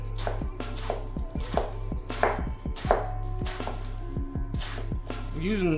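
Savoy cabbage being shredded on a board, a quick run of crisp, rhythmic chopping strokes roughly twice a second, close and fairly loud over a low steady background hum, with no talking.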